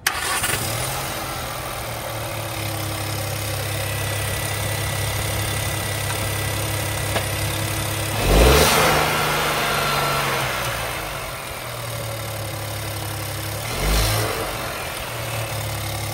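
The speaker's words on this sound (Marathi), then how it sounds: "दोन्ही गाड्यांचा आवाज तुम्हाला ऐकवतो" Idling car engines, one three-cylinder and one four-cylinder, hum steadily with no talk, broken by two short revs, the first near the middle and a smaller one near the end, each dropping back to a steady idle.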